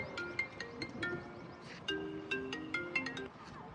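A mobile phone ringtone plays a simple repeating melody of bright, evenly spaced tones while a call to a friend connects, fairly quiet and with no voices.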